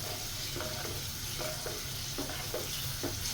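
Garlic frying in oil for a tamarind pickle, a dense, continuous crackling sizzle with a few faint stirring strokes, close and steady throughout.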